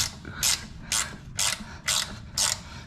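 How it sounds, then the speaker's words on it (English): A spanner turning a bolt on a 1979 Chevy 327 small-block V8 on an engine stand, giving six evenly spaced, close, sharp metallic ratcheting clicks, heard alone. "we'll chuck a ring spanner on that"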